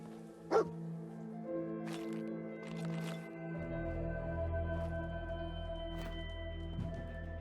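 Dogmeat, the canine companion in Fallout 4, gives a sharp bark early on and then a few softer yips over a steady backdrop of game music and low rumble.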